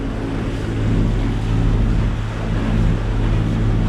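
A boat's inboard engine, its exhaust elbow freshly cleaned, runs at raised revs with a steady, loud low drone and slight swells in level, heard alone.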